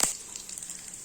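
Mustard seeds and chana dal hit hot oil with a sharp, brief sizzling burst at the start, then settle into a faint, fine crackle for the rest of the moment.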